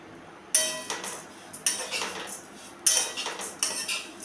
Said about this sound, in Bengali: এখন আমি চিড়েটাকে আগে শুকনো খোলায় ভেজে নেব, অল্প অল্প করে